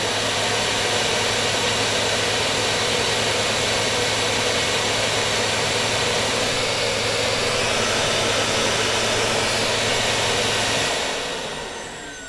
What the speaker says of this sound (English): Okay, this is dustbin emptying